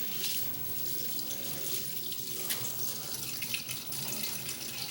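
Rice being washed under a running kitchen tap, a steady rush of water splashing into a sink, close and continuous throughout with no talking.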